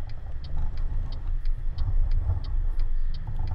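Volvo truck accelerating in Euro Truck Simulator 2: a steady low engine drone that builds slightly, with a faint rhythmic ticking, probably the indicator, repeating over it.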